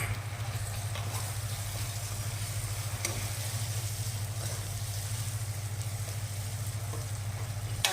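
Chopped tomato with a pinch of coriander powder sautéing in a pan for Rajasthani dal bati masala, a steady close-up sizzle with a low constant hum underneath and a few faint stirring clicks throughout.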